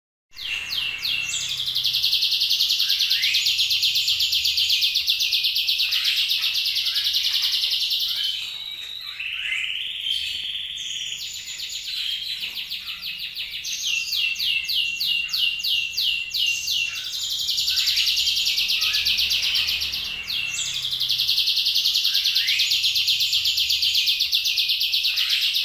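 A murai (white-rumped shama) songbird sings close by in long bright bursts of rapid whistled and trilled phrases, pausing briefly between outbursts, with no voices.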